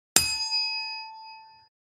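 A single bright bell ding marks the end of speaking time on a film discussion podcast: one sharp strike that rings clearly with a pure, sustained tone and fades out over about a second and a half.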